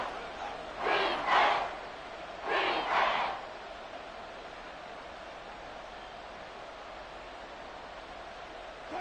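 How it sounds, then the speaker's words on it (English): A stadium crowd at a Texans football game swells in two surging roars, then settles into a steady distant murmur of fans. "this crowd making it hard to hear"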